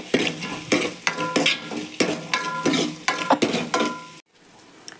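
Onions sauté in a pan with a close sizzle as a utensil stirs them in repeated scraping strokes and metallic clinks, the rhythmic stirring stopping abruptly near the end.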